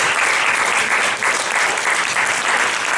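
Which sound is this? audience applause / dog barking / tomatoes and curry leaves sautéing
audience applause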